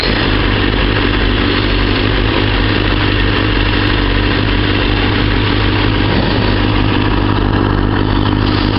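A motorcycle engine idles steadily in city traffic, a loud, close, continuous low rumble that holds without pause throughout.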